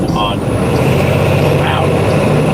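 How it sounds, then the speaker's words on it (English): A semi truck idling and running during exhaust regeneration, a loud, close, steady diesel drone with a low rumble and a faint high whine, some brief hissing at the start. "Truck sounds a little different. I'm in regen right now, so it's gonna sound a little odd."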